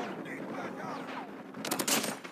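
Renetti pistol firing in a Call of Duty game, a quick burst of several sharp shots near the end over game ambience and a faint voice.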